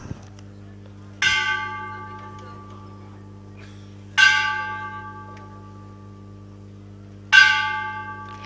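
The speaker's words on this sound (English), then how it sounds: "Please ring the bell 3 times." A bell is struck three times during a ceremony, each clear metallic ring slowly decaying before the next, evenly spaced about three seconds apart, with a faint steady hum underneath.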